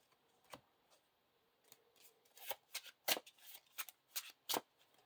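Playing cards from a Lord of the Rings card game being shuffled back into a deck, a series of quiet crisp riffles and flicks, close and alone.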